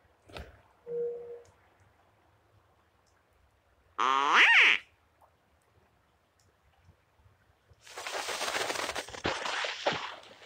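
Ducks in Secret Files 2 responding to a noisemaker: a short honk-like tone, then a bright sweeping squawk, followed by a burst of loud raspy quacking near the end, with quiet gaps between.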